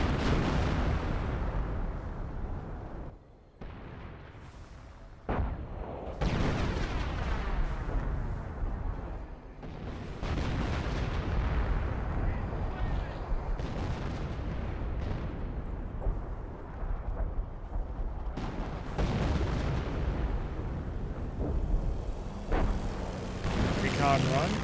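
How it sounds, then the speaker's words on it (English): Artillery fire and a creeping barrage in the Company of Heroes 1 strategy game, heard as a steady run of booming impacts and rumbling blasts under continuous commentary. "Grenadiers have seen a bit of artillery fire."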